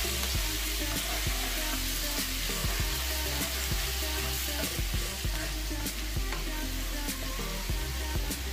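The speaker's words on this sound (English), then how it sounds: "put it in the blender, make it into a paste, give it a stir." Garlic paste is stirred into a hot pan, giving a steady, close sizzle and frying hiss with faint scraping stir sounds throughout.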